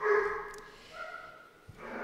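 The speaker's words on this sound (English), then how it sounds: "I don't know if y'all can hear my dogs freaking out in the background." Dogs bark and whine in the background at a moderate distance, a few yelping calls spread over the moment.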